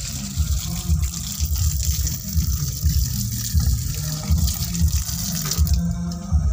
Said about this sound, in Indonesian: Cuci kaki dulu guys.